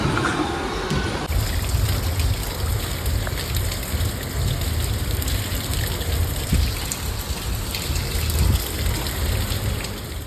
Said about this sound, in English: it was raining so heavily and I love rain